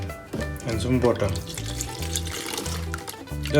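Water pours steadily into a container, splashing softly beneath louder background music with a melodic, rhythmic line.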